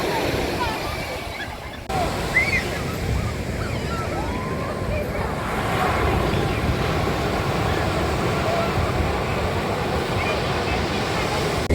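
Sea waves wash onto a beach in a steady, broad roar of surf with some wind buffeting, loud and continuous throughout, with no talk.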